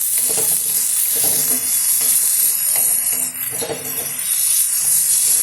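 Chopped onion sizzling and frying in a pan for fenugreek curry, stirred in loose repeated scrapes over a constant loud hiss, close up.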